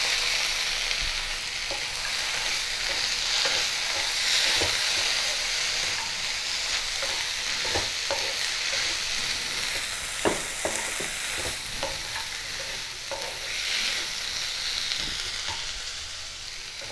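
Bitter gourd and bori chorchori, finished with kasundi, fry in a pan as a spatula stirs and scrapes through it, with a continuous hissing sizzle and scattered clinks and knocks.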